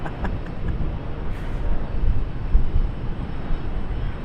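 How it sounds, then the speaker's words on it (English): A CRJ regional jet departs Charlotte Douglas International Airport, heard as a steady, distant low rumble of engine roar that swells slightly and holds without break. "CRJ departure"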